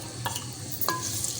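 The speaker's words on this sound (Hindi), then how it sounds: "अब मैं इसमें डालूंगी ये जो मैंने बड़ी स्लाइस की थी प्याज" Thick-sliced onions dropped into about 125 grams of hot oil, giving a brief steady sizzle with a couple of scraping stirs.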